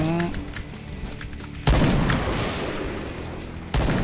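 Two heavy shots from a T2 sniper rifle in the shooter game Point Blank, each a loud crack with a lingering reverberant tail. The shots are spaced about two seconds apart over quieter in-game background noise.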